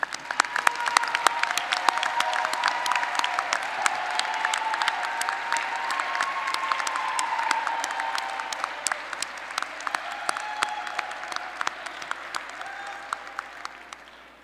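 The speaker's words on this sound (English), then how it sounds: "Let's all give them a round of applause." Family and friends applaud graduates at a fall electrical and computer engineering commencement ceremony, dense, sustained clapping from a large crowd that holds steady for the full stretch and slowly tapers.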